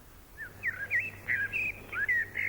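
A blackbird calls in short, bright whistled phrases that come in a steady series, fairly close and clear over a low background hum. No one speaks.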